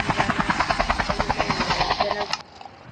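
A helicopter from a vehicles addon in a video game beats out a fast, even rotor chop, loud and close, with about twenty regular pulses before it stops abruptly, leaving faint background noise.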